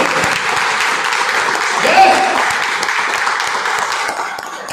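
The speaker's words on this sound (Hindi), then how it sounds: "तो मैं चाहूंगा आप अपने आप के लिए जोर ताली बजाएं, जोर कीजिए।" A large audience at a company promotional event claps loudly in a dense, continuous wash of applause, with a faint voice audible beneath it and the clapping easing slightly toward the end.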